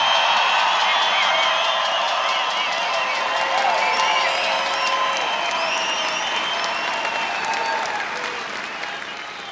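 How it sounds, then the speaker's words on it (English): Rally crowd in Belgrade, Montana applauding and cheering for veterans, dense sustained clapping with whoops and shouts, loud throughout and tapering slightly at the end. "I think we all should give them a tremendous round of applause"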